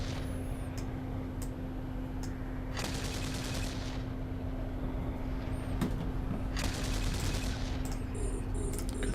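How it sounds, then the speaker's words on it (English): Repeated bursts of rapid weapons fire from ships battling cruisers and destroyers in the space game Eve Online, several clustered volleys over a steady engine-like hum. "Better start shooting me, Miss Batter."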